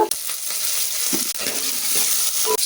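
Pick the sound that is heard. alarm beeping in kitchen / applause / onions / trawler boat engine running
onions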